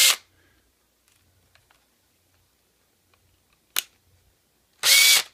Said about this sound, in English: start the drill while holding on to the chuck